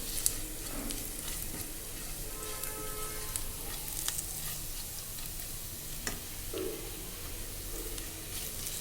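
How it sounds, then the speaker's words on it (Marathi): Turmeric and red chili powder sautéing in oil in a pan, a soft steady sizzle with occasional scrapes and stirring clinks, quiet and close with no talking. "आणि थोडीशी हळद बास फक्त लाल तिखट आणि हळदच टाकायची छान परतून घ्यायचं आहे"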